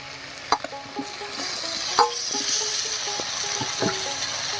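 Chopped squash stirred into a Bengali spice paste already fried until the oil separates: a spatula scrapes and knocks against the pan at uneven intervals over a steady, soft sizzle.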